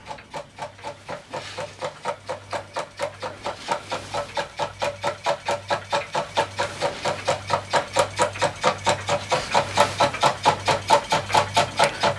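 A restored half-beam electromagnet engine runs with a steady, even rhythm of sharp mechanical clicks, roughly four per second, close and clear and gradually growing louder, with no voices.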